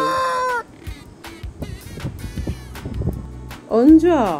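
A hen clucks in short bursts of farmyard calls, with loud crow-like calls at the start and end and brief pecking-like clucks in between.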